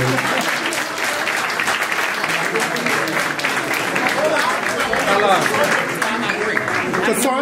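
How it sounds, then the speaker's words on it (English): A round of applause fills a memorial gathering, steady dense clapping at close range for the whole stretch, with voices and cheers mixed in under it. "Let's just give another round of applause for Precious."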